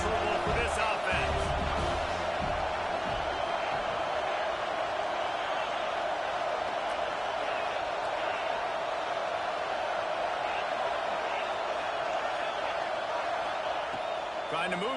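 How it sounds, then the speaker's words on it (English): Crowd noise filling a stadium in College Football 26, a steady broad roar under a commentator's talking, with a few thuds near the start. "This crowd trying to make life miserable for this offense."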